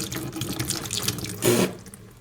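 Water gushes and splashes as it drains out of the engine of a barn-find 1981 Pontiac Turbo Trans Am, a steady trickling pour that swells into a louder burst near the end before tapering off.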